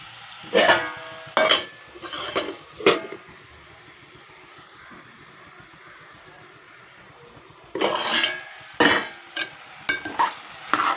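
Bitter gourd curry stirred in a pan, with clusters of sharp scraping strokes at the start and again near the end and a soft sizzle in the quiet gap between, close by.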